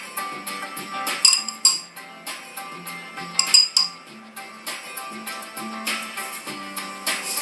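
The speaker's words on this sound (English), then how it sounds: "And now I actually want to flip this around and spoon on the butter" A spoon clinks and scrapes against a dish while butter is spooned onto strudel dough for a walnut Brie strudel, giving irregular light metallic taps up close over a faint kitchen hum, with no talk.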